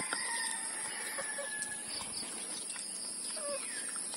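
Chickens, including a hen, cluck and call in the background with a rooster-like cry while being fed, over steady outdoor ambience with insects.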